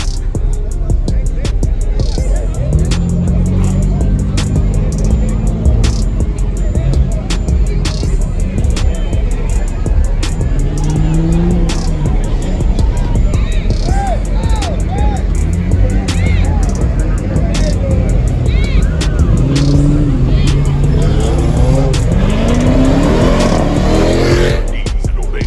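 A loud car revs hard at a crowded outdoor block party, its engine roaring continuously and rising and falling in repeated bursts close by, with faint voices underneath.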